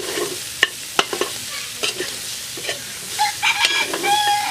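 Pork humba frying in rendered fat, cooked outdoors and stirred with repeated sharp scrapes and clacks of a utensil against the pan over a crackling sizzle, with a rooster-like call faintly behind.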